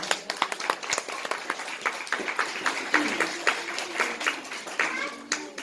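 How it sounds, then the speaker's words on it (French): An audience applauds a public balloon launch: a dense run of individual hand claps, fairly close, forming a steady, slightly uneven rhythm throughout with no clear pause. "Sous les applaudissements du public."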